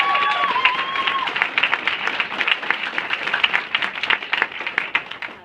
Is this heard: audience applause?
yes